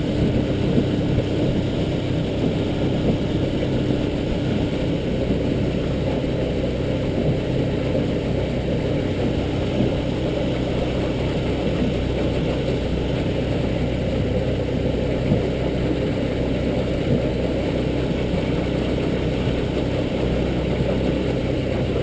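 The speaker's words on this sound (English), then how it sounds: "the boat is up and on plane. Very comfortable speed to run at." A 2003 Alumaweld 15-foot Stryker aluminum boat's outboard motor drones steadily at cruising speed on plane on Coos Bay, a constant low hum with wind and water noise throughout.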